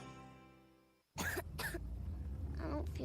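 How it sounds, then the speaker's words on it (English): In a cold medicine advertisement, a child coughs twice in sharp close bursts and then clears the throat, after a brief tonal musical tail fades out. "What about my cough?"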